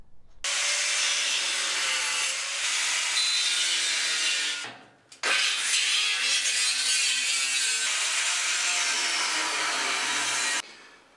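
A power tool cuts through a sheet steel cockpit panel while the cockpit is being widened, giving a loud, steady grinding rasp in two long passes separated by a brief pause.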